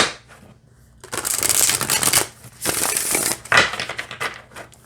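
A deck of medium-sized Brady Tarot cards is shuffled up close in several crisp, papery bursts, with short quiet pauses between them.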